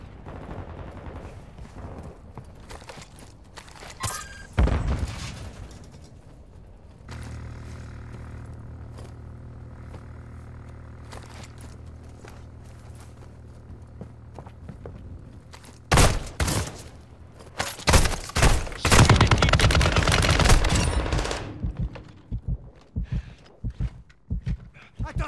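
Gunfire in the shooter Call of Duty: Modern Warfare II during a rescue mission, scattered shots early on, then a quieter stretch and a loud, dense burst of automatic fire near the end, with a distant radio voice now and then.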